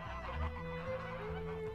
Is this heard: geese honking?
yes